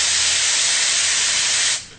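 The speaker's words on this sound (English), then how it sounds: "when you spray for a long period of time, what happens is the can starts to get cold." A can of compressed air sprays in one continuous, loud, steady hiss for nearly two seconds, then cuts off abruptly near the end.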